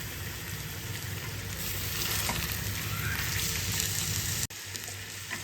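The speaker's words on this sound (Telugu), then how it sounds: "మ్యారినేట్ చేసి పెట్టుకున్న చికెన్ని వేయాలి" Marinated chicken frying in a pan with ginger and garlic, a loud, dense, continuous sizzle heard up close that holds steady and briefly cuts out near the end.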